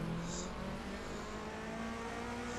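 A rally car engine in the racing game Assetto Corsa drones steadily on gravel, a constant near hum with a held tone that shifts slightly as the car drives on, with no voices over it.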